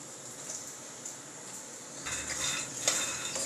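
Peanuts roasting in a pan are heard as quiet clattering and scraping of a spoon against the metal, with a faint sizzle underneath and livelier stirring in the last second and a half.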